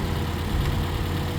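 Steady idle of a 2015 Toyota Corolla's 2.5 liter naturally aspirated engine after a front right-hand collision, a close, even low rumble with no talk over it.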